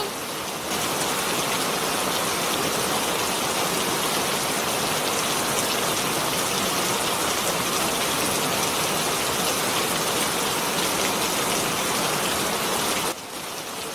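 Heavy rain pours steadily in a dense, even hiss that stays loud and unbroken, then drops off abruptly near the end.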